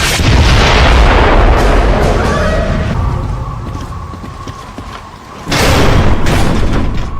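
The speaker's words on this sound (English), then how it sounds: "Mortars! The grubs are gonna flatten that house if we don't stop them!" Mortar fire in a Gears of War Judgment cutscene: heavy, loud booms and rumbling impacts with creaking mechanical debris, fading to a lull before another powerful blast.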